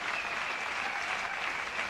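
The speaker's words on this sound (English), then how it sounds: "The crowd are oohing and ahhing, and quite so." A squash exhibition crowd at the 1993 Superseries in Zurich breaks into sustained, even applause, a dense wash of clapping from many hands.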